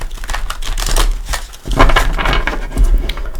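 Close, loud riffling and slapping of a deck of tarot cards being shuffled in several bursts, with papery flutters between.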